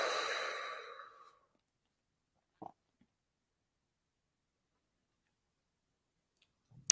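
A slow, soft exhale during a guided breathing meditation fades out over the first second and a half, followed by near silence with a couple of faint small sounds.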